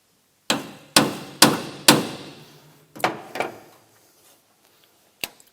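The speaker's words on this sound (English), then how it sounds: "Woody's made a couple of centre punch studs to just wind in there so we can hold it like this and give it a tap" A hammer taps a centre punch stud to mark two drill holes for engine mounts during a Holden Kingswood 304 V8 engine swap: about eight sharp metallic strikes, four strong evenly spaced then lighter ones, each with a short ringing decay, near and loud.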